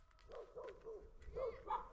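A white dog on a rural road in Lithuania lets out a few short, yelping barks spread across a couple of seconds, fairly faint and somewhat distant against a quiet background.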